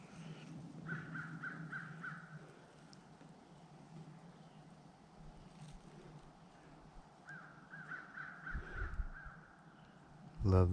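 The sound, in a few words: crows cawing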